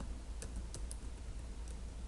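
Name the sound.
typing code on a computer keyboard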